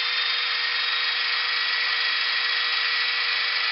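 A modified bead rolling machine runs steadily on sheet metal at about 10 to 12 linear inches a minute, giving a continuous, even, loud whirring drone with a bright, high-pitched motor whine and no pauses.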